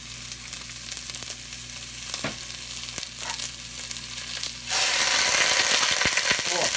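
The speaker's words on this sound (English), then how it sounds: "Oh, listen to that sizzle." Venison shanks sizzle in hot oil in a Dutch pot, a steady close frying hiss with a few clinks, swelling sharply louder toward the end as the meat hits the oil.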